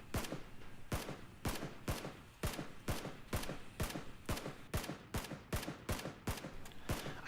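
Gunfire in PUBG, Player Unknown's Battlegrounds, on a beach: a steady run of about fifteen sharp shots at an even rhythm, each a crisp loud crack with a short tail, alone with no talk.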